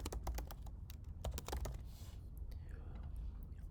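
Rapid keystrokes on a computer keyboard during spreadsheet work, a quick run of sharp clicks followed by a pause and a few scattered taps, close and fairly quiet over a low background hum.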